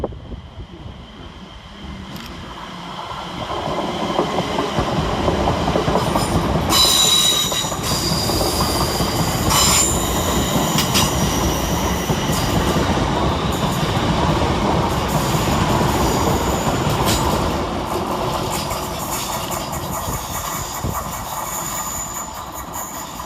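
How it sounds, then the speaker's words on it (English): Two coupled London Northwestern Class 350 electric trains climb past Edge Hill station on the Liverpool Lime Street to Birmingham New Street run, swelling into a loud, near rumble with wheel squeal and rhythmic clatter before fading slightly. "Coming up the hill for London Northwestern is 350-242 and 350-238, working 1 Golf 23 from Liverpool Lime Street to Birmingham New"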